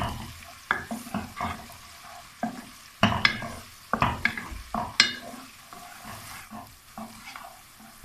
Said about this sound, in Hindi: प्याज को भी थोड़ा सा फ्राई कर लेते हैं।